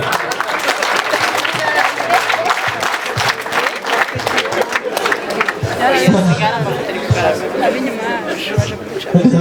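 A crowd claps in sustained applause, with chatter and voices mixed into the clapping.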